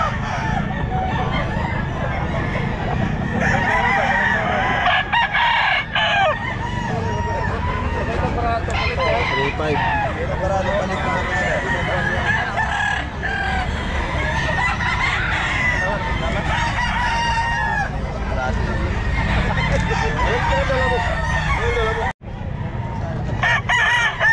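Pumpkin Sweater gamefowl roosters crowing and clucking at a busy pet market, with repeated crows from several birds over steady crowd noise and people talking nearby.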